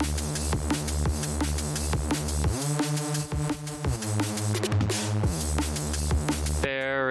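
A sustained drum and bass Reese bassline from the Europa synth in Reason, its notes gliding smoothly up and down into one another, playing steadily and loudly over a constant low drone.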